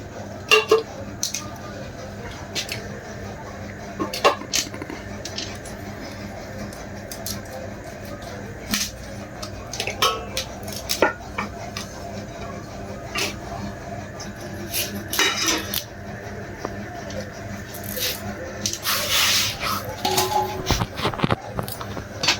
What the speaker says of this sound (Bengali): এবার সবজিগুলো কেটে নেব